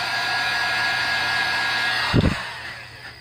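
A heat tool blows steadily on epoxy earrings being worked with glitter, a continuous airy whir with a mechanical hum, close and loud, interrupted near the end by a brief thump of handling.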